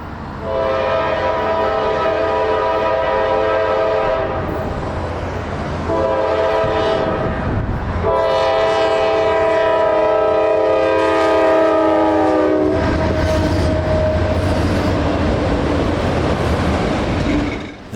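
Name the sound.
Norfolk Southern freight train passing crossing, sounding horn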